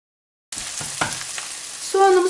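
Chopped onions dropped into hot butter and olive oil in a pan, bursting into a steady close sizzle with stirring clatter, then a louder hiss that swells toward the end.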